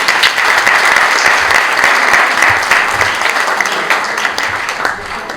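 A hall audience at a student felicitation ceremony breaks into dense, sustained applause. The many hands clap loudly and evenly throughout, tapering only slightly near the end.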